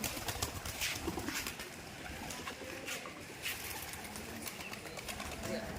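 Soft pigeon cooing under a steady wash of outdoor noise, with people talking nearby; the pigeons sit in the sun.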